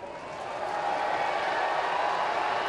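A stadium crowd cheers and claps for Carp pitcher Kuroda on his 200th win, the roar swelling in the first second and then holding loud and steady.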